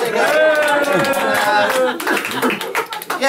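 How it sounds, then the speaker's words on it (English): Small-audience applause for a magic-show volunteer, with brisk, uneven clapping running throughout under voices cheering and talking. "Give Olive a little round of applause."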